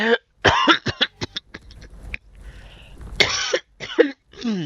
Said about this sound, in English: I was doing my best to suppress that asthmatic cough all throughout.